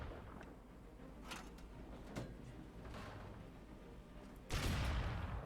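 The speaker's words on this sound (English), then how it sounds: "they fire the main gun and the 30mm at the same time" A tank's main gun and 30mm cannon firing together in War Thunder, with a few distant booming shots over low rumbling ambience, and a heavier, closer blast near the end.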